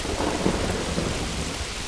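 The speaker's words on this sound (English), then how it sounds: "there's potential for hail during this whole like little storm that we're having right now" A thunderstorm over an island campsite produces a steady roar of rain and low rumbling thunder, loud and continuous throughout, with no voices.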